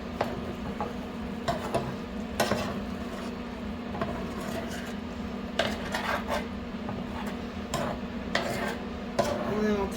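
A utensil stirs brown sugar and seasonings into food in a pan, giving repeated clinks and scrapes of metal against the pan in an irregular rhythm over a steady low hum; nobody speaks.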